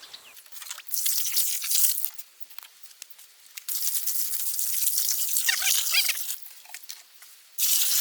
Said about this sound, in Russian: Теперь надо пролить это хозяйство водой. Большим количеством воды.